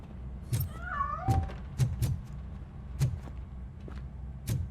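A single short cat meow rises and falls early on in RoboCop: Rogue City, surrounded by scattered thumps and clicks in a quiet setting.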